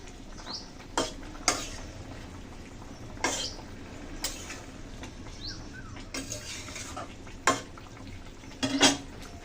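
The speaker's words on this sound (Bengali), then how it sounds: "আমি সামান্য একটু জিরের গুঁড়ি দিয়ে দিচ্ছি। ভালো করে মিশিয়ে নিয়ে তরকারি নামিয়ে নেব।" Curry being stirred in a pan after a pinch of cumin powder goes in, with scattered clinks and scrapes of a utensil against metal over a low steady cooking hiss, no voices.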